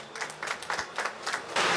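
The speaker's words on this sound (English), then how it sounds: "Give her a round of applause, please, as she comes." Brief burst of audience applause at an anniversary ceremony for a heritage train engine, soft uneven clapping from a gathered crowd that swells slightly toward the end.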